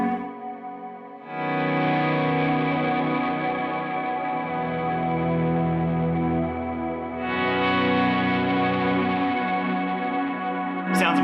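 An electric guitar runs through effects pedals with reverb, playing long sustained chords in two swells that ring out with a wide, washed tail. No one talks over it.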